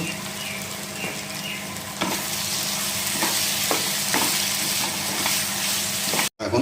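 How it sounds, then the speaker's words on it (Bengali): Pre-fried potatoes being sautéed with spice paste in hot oil for a rui fish and eggplant curry. A loud, continuous sizzle is broken by regular stirring scrapes, close up, with no voices. "যে আলুগুলো আমি আগে ভেজে রেখেছিলাম সেগুলো এখন দিয়ে মশলার সাথে একবার ভালো করে কষিয়ে নেব"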